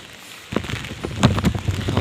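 Rain falling with strong wind shaking trees on a hilltop, a sudden rush of pattering and rustling that swells and stays loud throughout.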